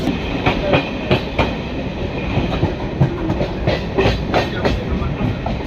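A metro-style train runs into Prinsep Ghat station in Kolkata with loud, continuous rolling rumble and rhythmic clickety-clack of wheels over rail joints, heard close from on board.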